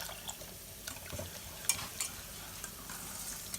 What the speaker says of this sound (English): And keep whisking it.